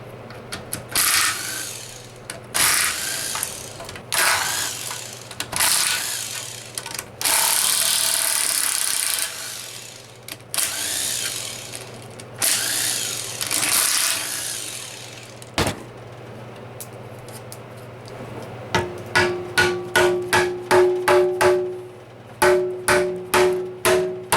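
Tools work loose the bolts on the transmission pan of an L60E, giving bursts of ratcheting and rattling clicks, then a closing series of sharp, evenly spaced mechanical buzzes, close up with no talk.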